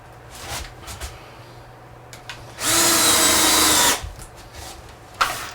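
A power drill drives screws into a large shaped wooden sign without pre-drilling, with one loud sustained burst of whirring, the screws countersinking themselves, amid quiet workshop noise.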